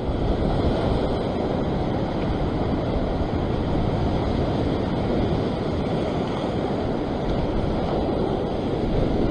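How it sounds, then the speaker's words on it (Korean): Ocean waves wash steadily against a rocky shore during sea fishing, a continuous loud roar of surf with wind buffeting the microphone throughout, no voices present. "한 번 더 파도."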